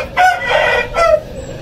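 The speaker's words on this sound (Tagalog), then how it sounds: "Tagaok na yung manok mga manay." A rooster crows close by in a farmyard setting, two loud drawn-out calls separated by a short pause, with no talking over it.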